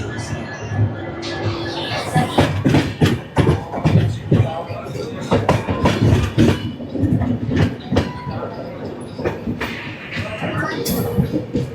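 The Kirandul passenger train from Visakhapatnam to Araku rolls along with rhythmic clickety-clack of wheels on rails, loud and near, heard from inside a carriage throughout.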